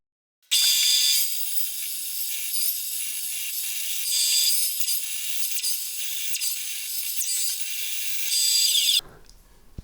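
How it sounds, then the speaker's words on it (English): A bandsaw slices through a guitar body blank, a sharp, continuous high-pitched cutting whine held for about eight seconds before stopping abruptly, with no talking. "that was an absolutely horrible cut to make on the bandsaw"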